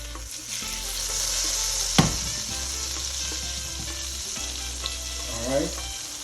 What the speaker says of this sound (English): I'm just helping the butter to melt faster by shaking it around